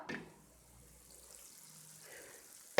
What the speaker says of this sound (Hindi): इसके अंदर मैं सिर्फ आधा कप पानी ऐड करती हूँ